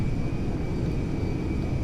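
An Airbus A321neo jetliner in GTA 5 gives a steady, loud engine roar with a thin constant whine above it, holding unchanged and without voices for a couple of seconds.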